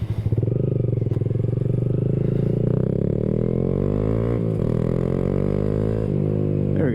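A Honda Grom motorcycle rides down the road, its small engine droning loud and close with steadily rising revs as it accelerates, a brief dip midway, then pulling on again.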